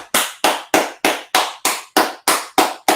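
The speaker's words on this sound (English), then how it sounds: "I got to stand up and clap for this one." One person clapping hands alone, ten sharp, evenly spaced claps in a steady rhythm, close and loud, with no talking over them.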